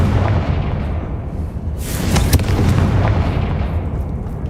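A Confringo blasting spell in Hogwarts Legacy goes off as a single sharp, crackling explosion about midway, over a loud, rumbling game soundscape.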